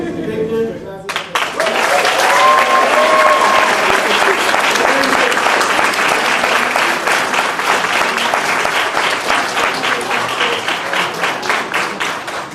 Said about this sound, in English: Just one final applause, please, for all of our finalists.